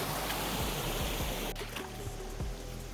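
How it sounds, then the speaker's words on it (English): A creek splitting into two channels rushes with a strong current, making a continuous close gurgling stream of water with steady splashing and burbling, no voices. "It splits into two creeks up here. I'm gonna take the smaller one with the weaker current"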